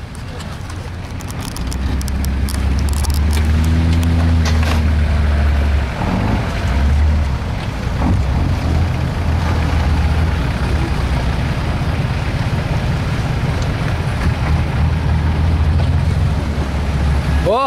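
Mitsubishi Pajero 4x4 driving off-road, its engine a loud steady low rumble that swells and strains throughout, with voices talking over it at moments.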